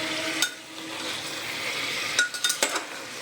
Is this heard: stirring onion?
yes